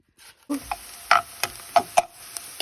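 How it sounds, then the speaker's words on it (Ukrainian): Grated potato hits a hot frying pan and crackles, followed by several sharp stirring scrapes and pops at irregular intervals, close and fairly loud with no talking. "тепер ту терту бульбочку от викидаю на риночку"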